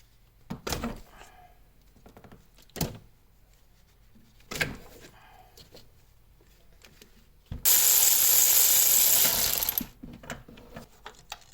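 Ratchet and tool clicks while removing spark plugs from a Honda Beat engine, a few separated metallic bursts followed by a longer, louder hiss-like stretch, nearby and with quiet gaps between.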